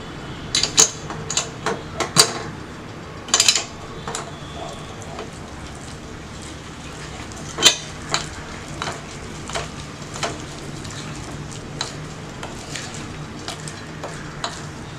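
Homemade chocolate mixture stirred in a pot, a spoon scraping and clicking against the sides in an irregular run of sharp taps over a steady background hiss.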